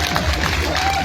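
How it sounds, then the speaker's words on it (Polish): Brief burst of crowd applause and cheering at a chilli-eating contest, loud and dense, with voices mixed into the noise. "gorące brawa"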